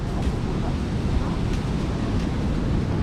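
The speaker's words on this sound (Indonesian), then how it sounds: "Ini suasana pantai Prerenan pagi hari ya." Morning surf rolling onto Pererenan beach in Bali, a steady broadband wash of waves with wind buffeting the microphone throughout, continuous and fairly loud with no distinct breaks.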